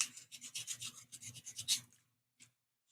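Rhythmic rasping strokes of sandpaper on a wooden edge where elastic bands will sit, about a dozen quick rubs close up, then silence with one brief final scrape.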